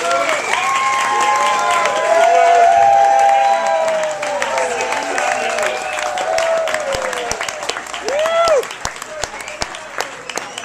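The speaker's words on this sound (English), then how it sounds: "if I can get a golf clap for the parents of the bride and groom" Wedding guests give a round of applause for the parents of the bride and groom during a best man toast, with steady clapping, a few cheers and voices talking over it.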